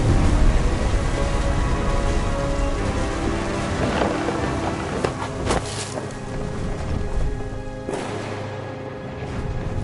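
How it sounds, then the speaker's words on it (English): Thunder rumbles through steady heavy rain in the game What Remains of Edith Finch, with several booming cracks rising over the constant downpour. "The thunder sounded much too close and full of angry power"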